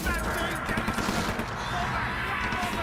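Dense, continuous gunfire with bursts of rapid shots and distorted screams blends into a loud, chaotic wall of noise from the horror game Outlast, with no pauses.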